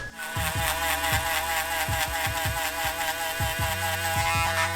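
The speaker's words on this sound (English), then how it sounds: "now on to our foil shaver" Electric foil shaver buzzing steadily during a head shave and beard trim, a continuous close hum with repeated short dips and bumps as it passes over the skin.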